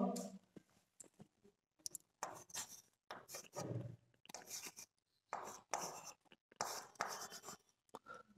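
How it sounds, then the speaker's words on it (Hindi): Chalk or marker writing on a classroom board, scattered short scratching strokes and taps in irregular clusters, close and fairly quiet, with near-silent gaps between them. "यहां मैं लिखता हूं कलर"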